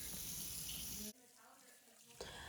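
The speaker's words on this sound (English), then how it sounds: "pour the juice back into the pan" Apple juice strained from cooked apples pours back into a pan as a steady, bright splashing stream for about a second, then drops to a quiet trickle before a brief louder splash returns.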